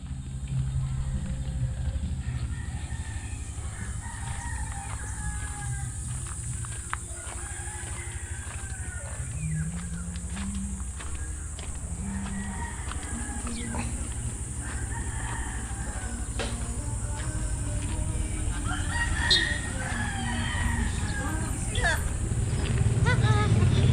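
Chickens cluck and a rooster crows amid a busy, noisy farmyard, with people talking in the background throughout.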